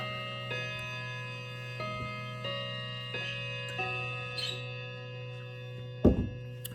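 A clock ticks softly and evenly indoors, roughly one tick per second, with a brief louder knock near the end.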